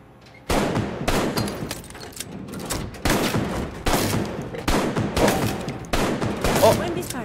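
Rapid bursts of gunfire from the Arktika.1 shooter game on PC, repeated volleys firing in quick succession with brief gaps between them, loud and close throughout.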